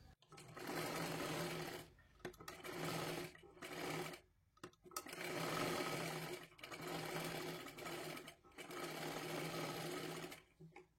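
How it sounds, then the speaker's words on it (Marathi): Sewing machine stitching two round blouse pieces together in a circle, close and steady, running in several bursts of continuous whirring separated by short pauses. "पूर्ण गोल आकारात ह्याला शिलाई करून घ्यायची आहे"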